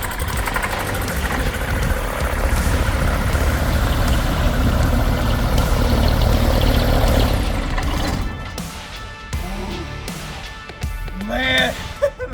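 A Rotax engine on an abandoned flying boat runs loud and rough with the choke held, a steady dense drone for about eight seconds before it sputters and cuts out, leaving uneven bursts and a short whine near the end.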